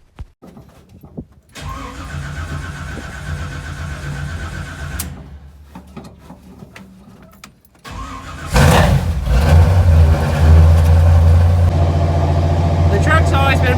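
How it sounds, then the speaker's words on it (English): A Chevrolet K5 truck with a cold-natured engine cranks with intermittent starter whirring, then catches and fires into a loud, rough idle that holds steady, with someone talking over the start. "Let's see if she'll even crank over for us."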